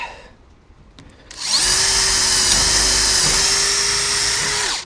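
A power tool drives screws into a Skorva bed frame inside a van, starting after a second of quiet and then running loud and steady, its whine holding at one pitch for several seconds without a break.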